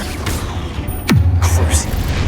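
Hogwarts Legacy spellcasting with a Confringo blasting spell: a sharp whooshing sweep drops into a low booming impact near the middle, set against dense game effects and a steady rumbling bed, loud and close.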